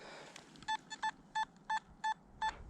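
Metal detector giving a series of six short, evenly spaced electronic beeps while sweeping along a railway embankment over buried metal such as artillery shell fragments and driving bands, fairly faint against quiet outdoor background.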